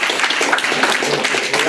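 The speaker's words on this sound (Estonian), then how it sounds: "Nii et teeme aplausi." Audience applause for the winning robotics team from Kuressaare gymnasium at a school robotics science contest, a dense, steady patter of clapping filling the whole moment with some voices mixed in.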